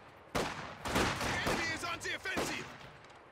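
Gunfire bursts crackle in a real-time strategy match as conscripts try to dodge a machine gun and fire on assault grenadiers, a dense, continuous barrage of shots with an announcer's voice talking over it.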